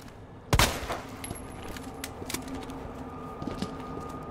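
A single sharp gunshot cracks out in the Resident Evil 2 video game, followed by faint scattered clicks and thuds of gameplay, with no talk over it.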